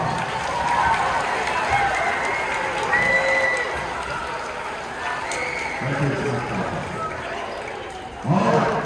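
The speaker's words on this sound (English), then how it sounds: "Let's also give a round of applause for the U.S. students for doing an amazing job." Sustained applause from a crowd of students and staff at a school assembly, a dense steady clatter of clapping that holds for several seconds before a brief louder swell near the end.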